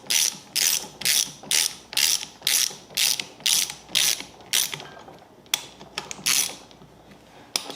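Hand ratchet snugging bolts down on a 2006 Arctic Cat M7 snowmobile, a run of about ten rhythmic clicking bursts close up, slowing and breaking off toward the end.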